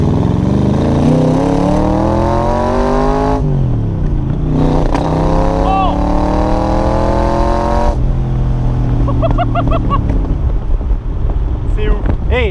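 An AC Cobra Shelby with a 302 hp engine pulls hard under way, its exhaust note climbing steadily in pitch through each gear, dropping at two shifts, then rising again, loud and close with wind buffeting throughout.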